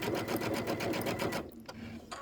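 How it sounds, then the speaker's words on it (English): A sewing machine back stitches through quilting fabric for a table topper, a fast steady needle rattle that stops briefly near the end and then restarts. "I'm going to start with my needle in my fabric, and then I'm going to back stitch."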